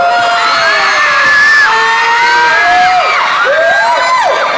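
A loud crowd at a celebrity interview event at Robinson Lampang screams and cheers in high, piercing wavering shrieks, many voices overlapping continuously without a break.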